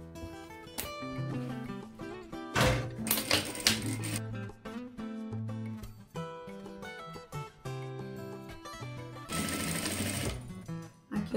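A sewing machine stitches in quick rattling bursts, pausing between runs, then backstitches in reverse while stitching a clutch bag.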